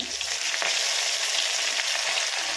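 Onions, bay leaf and mint fry in a hot pan for a stuffed brinjal curry, giving a dense, steady sizzle close up with faint stirring and no voices.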